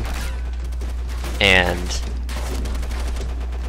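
Gunfire and mortar explosions crackle and boom in Call of Duty: World at War on the Breaking Point mission, with dense bursts of shots throughout and a voice speaking briefly midway.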